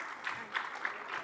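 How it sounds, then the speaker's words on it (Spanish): A short burst of audience applause for a lecturer at a science-culture event, moderately loud clapping with a few sharper claps, heard briefly with no talk over it. "Un aplauso fuerte,"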